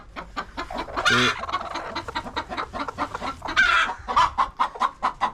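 A hen clucks steadily and close by in a busy farmyard, with louder squawking bursts breaking through the repeated clucks.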